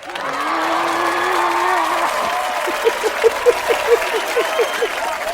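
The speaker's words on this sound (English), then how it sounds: "Wow, the fans are here. I like the applause." A small live studio audience claps for an arriving talk show guest, breaking into a short run of rhythmic, fairly close claps after a brief stretch of murmur.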